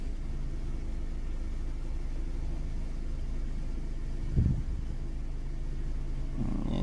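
Car engine with a faulty catalytic converter idling steadily, a low continuous rumble heard alone with a brief knock midway.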